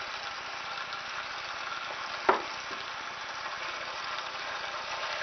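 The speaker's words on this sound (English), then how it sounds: "You smell that beef cooking already" Beef sears in a hot pan with a steady, close sizzle, broken once by a brief sharp clink partway through.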